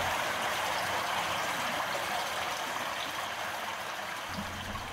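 Water flowing steadily through a culvert, a continuous broad rushing and trickling wash at even loudness throughout, with no voices.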